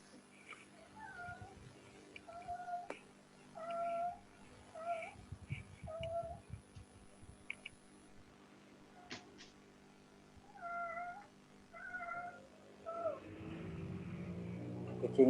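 A cat meows repeatedly during an online group discussion, a string of clear, drawn-out mews at moderate distance coming in several bursts with pauses between, over a faint background hum.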